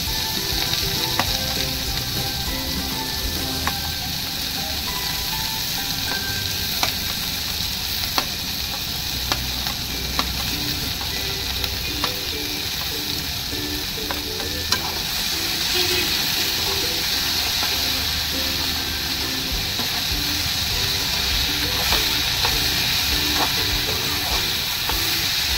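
Okra fries in a pan for a spicy bhaji, a loud continuous sizzle with occasional stirring scrapes and clicks, close and steady throughout.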